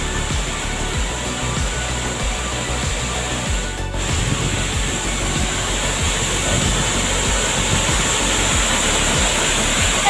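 Pampanal waterfall roars with rushing water, a steady, loud, broadband wash heard close up, with faint rhythmic knocking and rubbing beneath and a brief dip near the middle.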